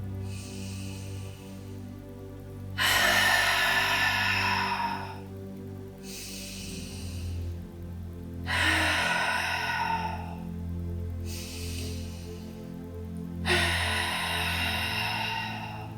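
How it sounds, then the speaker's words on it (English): Three slow, deep yoga grounding breaths, each drawn in through the nose and released as an audible sighing exhale through the mouth, loud and close with quiet pauses between, no talking. "taking 3 final grounding breaths together, inhaling through the nose and exhaling to sigh out the mouth"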